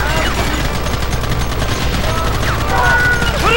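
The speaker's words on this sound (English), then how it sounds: "Gun them down. We still got a bunch more. Keep going." Gunfire in the Red Dead Redemption video game, a rapid, loud fusillade of overlapping shots with scattered ricochet-like whines, steady throughout with a voice talking over it.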